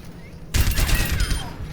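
Gunfire in Overwatch, a sudden loud burst of rapid shots landing headshots, starting abruptly after a quiet moment and continuing with dense crackling impacts.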